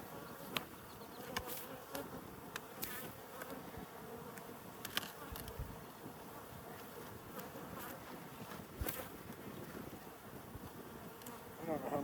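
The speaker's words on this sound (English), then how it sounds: "Oh, there's a wasp. Get out of there." A wasp buzzes around honey-filled beehive frames in a Colorado backyard apiary, a faint insect drone with scattered close passes and clicks over steady outdoor background noise.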